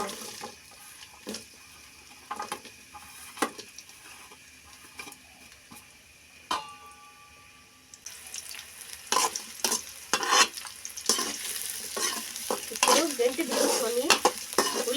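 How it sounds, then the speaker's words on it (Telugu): Sliced onions frying in oil in a pan for tomato chutney, stirred with a ladle: a soft steady sizzle with scattered scraping taps at first, then louder, busier crackling and clattering stirring up close. "ఉల్లిగడ్డలు వేసుకున్న తర్వాత గంటి తీసుకొని కలుపుకుందామండి ఈ ఉల్లిగడ్డలు మాడకుండా చూసుకోవాలండి"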